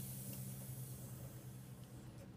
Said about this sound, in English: So we have really good steam coming out of the machine.